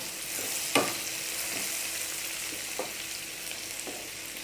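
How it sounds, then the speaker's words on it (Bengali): Prawn curry ingredients sizzle steadily in a pan while a spoon scrapes and stirs in a few distinct knocks, the frying hiss loud and continuous close by. "এগুলো এখন সুন্দর করে মিক্সড করে নেব।"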